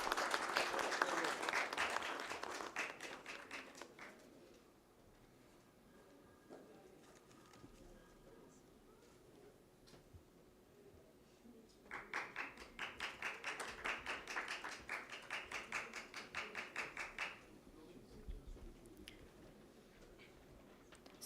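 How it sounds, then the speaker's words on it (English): Audience applause at a global ESG summit, a loud burst of clapping at the start that fades, then a second strong wave of applause midway, with some bird cooing in the quieter gap. "Can we have a huge round of applause?"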